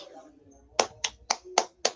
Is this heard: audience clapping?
yes